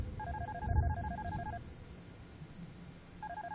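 An electronic telephone rings in the video game Darkness Within. The warbling trill repeats twice with a pause between, clear over a low room background.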